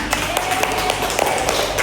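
Students in a class clap for a presenting group, a short burst of scattered, somewhat sparse hand claps close to the recorder over a bit of room noise.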